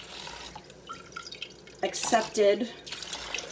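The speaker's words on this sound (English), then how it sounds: "my dad always added water to the jar, shook it around to get every little bit off" Tap water runs and drips into a glass sauce jar in a home kitchen while making eggplant parmigiana, splashing in short bursts as someone talks over it.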